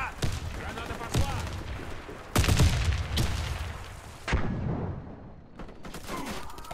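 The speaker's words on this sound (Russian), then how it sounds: "Граната! Граната! Граната пошла!" Grenade blast and bursts of gunfire in the shooter game Warface, several loud sharp bangs and rattling volleys spread across a few seconds, with voices shouting in between.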